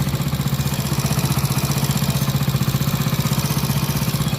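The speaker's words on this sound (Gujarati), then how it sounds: "આપણે ગાડીમાં એન્જિન ચડાવી દીધું છે અને ગાડી ચાલુ પણ કરી નાખી છે" A Hero Honda HF Deluxe motorcycle, freshly fitted with a rebuilt engine, idles steadily nearby with an even, fast pulsing putter and no voices over it.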